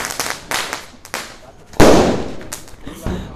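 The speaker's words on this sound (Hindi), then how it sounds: "हम लोग बहुत उम्मीद से फोड़ते हैं पटाखा यहाँ पे।" Diwali firecracker rockets go off outdoors, with a series of sharp bursts and crackles and one loud bang near the middle, while people talk around them.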